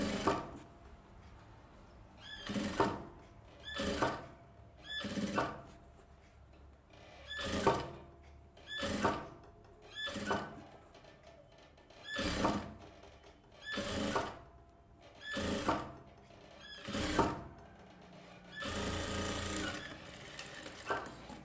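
Sewing machine stitching a silk skirt seam for a one-year-old's outfit, running in about a dozen short, even bursts a couple of seconds apart, each swelling and fading, ending with a slightly longer continuous run; close and moderately loud.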